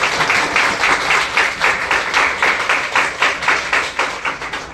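An audience claps in unison during a talk: loud, rhythmic, evenly spaced claps repeat steadily throughout, with no speech.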